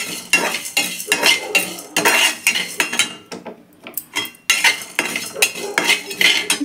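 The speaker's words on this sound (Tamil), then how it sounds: "ஃபஸ்ட்டு மிளகு, சீரகம், சோம்பு எல்லாம் எடுத்து வச்சுருக்கேன். பார்த்திங்களா, ஃபுல்லாக போட்டுக்கலாம். நல்லா வதக்கலாமா? பொன்னிறமாக வர வரைக்கும் வதக்கணும்." Black pepper, cumin and fennel seeds dry-roasting in a pan, heard as rapid rhythmic scraping and clinking of a metal spoon against the pan, with a brief lull midway before the stirring resumes, no talk.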